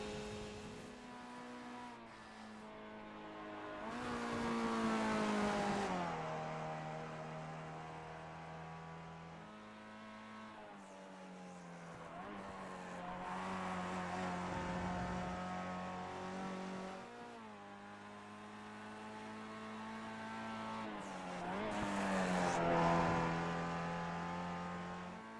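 A Mazda MX5 race car in the iRacing sim at Brands Hatch climbs through its revs in three long pulls, pressing against the limiter, with the pitch dropping at each gear change and a little tire squeal.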